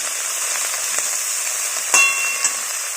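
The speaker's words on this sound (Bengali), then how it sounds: "খুব ভালো করে এবার নাড়াচাড়া করে দিচ্ছি। বেশ কিছুক্ষণ আমরা তেলে এটাকে সাঁতলে নিচ্ছি।" Chopped ridge gourd sautéing in hot oil, a loud continuous hiss and sizzle with brief stirring scrapes, close up and with no talk.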